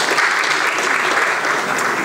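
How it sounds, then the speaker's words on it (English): Audience applause at a university graduate students' association event, a thick, continuous burst of many hands clapping, loud and close, with no voices over it. "Doctor, please stand for a round of applause"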